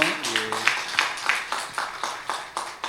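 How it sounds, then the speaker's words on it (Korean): A congregation at a Sunday morning service at a Korean holiness church gives a welcoming round of applause: steady, rhythmic clapping at a moderate distance, fairly quiet, with a brief vocal tone at the start. "우리 하나님께 영광을 돌리면서 환영의 박수 한번 하실까요?"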